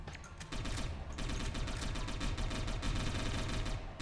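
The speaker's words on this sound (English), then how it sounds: "Let's just use guns." Sustained automatic gunfire in the cyberpunk game Satellite Reign, a dense rattling stream of rapid shots that runs continuously at moderate volume, with no talking.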